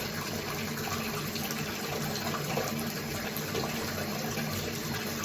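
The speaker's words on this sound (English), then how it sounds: "I'm gonna let the water run for that one" Tap water running steadily from a faucet, a constant, soft, close hiss and splash with no breaks.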